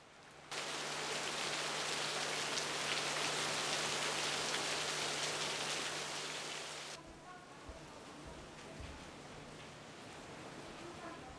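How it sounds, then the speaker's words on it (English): Steady, heavy rain pours down at a temple, a dense wash of drops that begins abruptly and stays loud for several seconds before easing to a softer, continuing patter. "The rain falls all day, without giving any sign of letting up."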